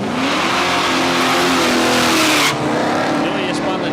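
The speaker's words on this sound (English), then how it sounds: "Hillier spun the tyres hard and just kept the foot into it" A drag race car at Palmyra Raceway in Australia launches with its tyres spinning hard, a loud, sustained engine roar and tyre scream that cuts off sharply partway through, with an announcer talking.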